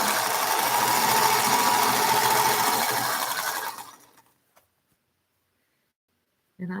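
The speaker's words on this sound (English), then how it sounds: "Just while I sew this, I've got this little stack here to sew" A sewing machine stitches steadily through a small stack of fabric, a loud continuous whirring run lasting several seconds before it stops, followed by near silence.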